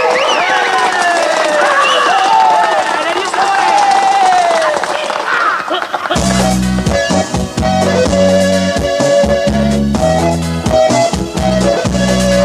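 An audience cheers and claps at a Batak comedy and song show, a dense roar of crowd noise with shouts that gives way abruptly to loud music halfway through.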